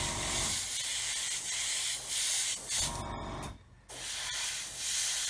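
Gloss coat being sprayed onto the bumpers of a 1/35 Tamiya Willys Jeep scale model, a steady close airbrush hiss in sustained bursts with a brief pause near the end.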